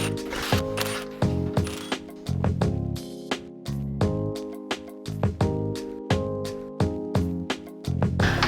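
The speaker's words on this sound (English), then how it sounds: "I'm just gonna use an impact to remove them the rest of the way and get this done quickly" Impact wrench spinning off car wheel lug nuts, a rapid rattling hammer in repeated bursts of about a second each with short pauses between, close and loud, no talking.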